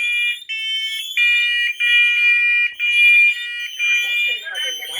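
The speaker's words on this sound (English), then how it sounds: "The test. alarm will sound." A smoke alarm runs its self-test, sounding loud, piercing electronic beeps in repeated bursts close to the microphone, with short gaps between pulses.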